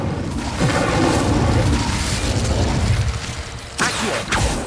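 In the video game Hogwarts Legacy, an Incendio fire spell is cast with a loud booming whoosh that rolls on for several seconds, followed by sharp crackling bursts near the end.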